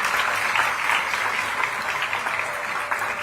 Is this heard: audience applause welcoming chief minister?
yes